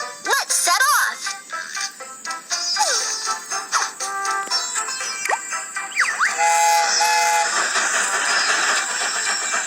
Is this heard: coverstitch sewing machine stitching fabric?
no